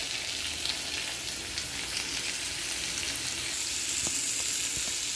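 Pumpkin and potato sautéing in a pan, a steady close sizzle with fine crackling and a few soft stirring knocks toward the end.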